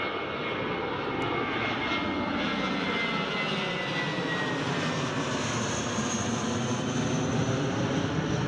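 Aircraft engine at Newcastle International Airport roars loud and steady from start to finish, a continuous broadband jet-and-propeller drone with no voices over it.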